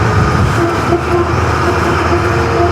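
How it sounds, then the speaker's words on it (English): Big surplus army truck under way, a loud steady engine drone and road roar from inside the cab, continuous with a faint whine on top. "Let's see what this big truck will do."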